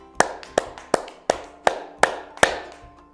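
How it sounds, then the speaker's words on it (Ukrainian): Small hands clap in a children's music and movement exercise, seven crisp, evenly spaced claps in a steady rhythm, close and clear with no talking. "Тепер тільки плескаємо долоньками."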